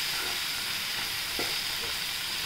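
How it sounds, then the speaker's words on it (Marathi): Spring onion bhaji sautés in a pan with turmeric and chili, giving a soft, steady sizzle and frying hiss that stays quiet and even, with one brief stir-like scrape partway through. "आता आपण ह्याला छान परतून घेऊया।"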